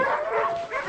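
Sled dogs on a snowy trail bark and whimper in a continuous restless chorus of yips and whines, close and fairly loud, with no clear talk over them.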